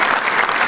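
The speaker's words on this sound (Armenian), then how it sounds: "ես ուզում եմ բարձր ծափարենք ու շնորհավորենք տղամարդկանց" An audience at a women's club TV show gives a brief, dense burst of applause.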